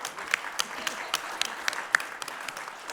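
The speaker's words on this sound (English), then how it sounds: "Give them a big round of applause." An audience at a conference speed debate applauds with scattered, moderately close handclaps that run steadily for a few seconds.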